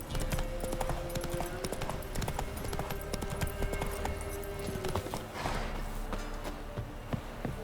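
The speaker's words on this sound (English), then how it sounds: "Time to water the horses." Steady clip-clop of horse hooves walking in The Witcher 3, with a faint whinny and scattered game sounds in the background.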